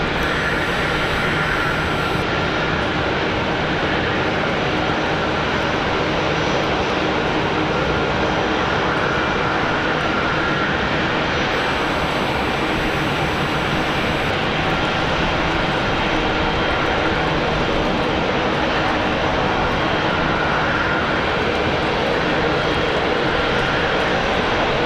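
Steady, loud roar of airplane engines at Raleigh-Durham International Airport on a snowy morning, a broad continuous rumble that holds for the whole stretch without a break.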